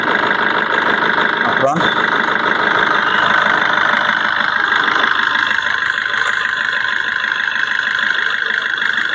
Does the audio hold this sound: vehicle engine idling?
yes